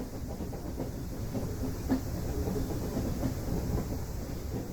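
A Victorian sleeper train runs along the single-track Highland line north of Perth, giving a steady, continuous rumble with faint clattering of the carriages throughout and no voices.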